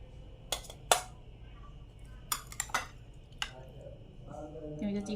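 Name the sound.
spoon clinking against dishes while serving Bengali lunch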